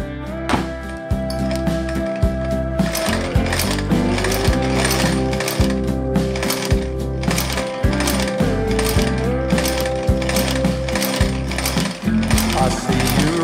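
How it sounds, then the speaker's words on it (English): Stitching through a leather tote bag gives a steady, rapid mechanical chatter of repeated thumps and clicks. It holds a continuous, even rhythm, close and loud, with a faint hum underneath. "I'm gonna sew two lines around here."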